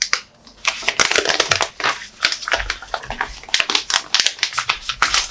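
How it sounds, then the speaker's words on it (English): A Xiaomi Pad 5 tablet being unwrapped, with close, loud bursts of crinkling plastic and crackling wrap in quick irregular runs. "it's time to unwrap the star of the show"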